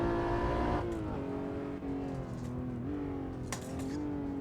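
A Porsche 996 GT3 RS engine revs steadily close by, its pitch dipping and climbing through several gear-like steps, loud and continuous with no voices over it.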